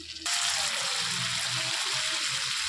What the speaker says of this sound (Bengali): টক দইয়ের বাটিটা ধুয়ে আমি জল দিয়ে দিলাম।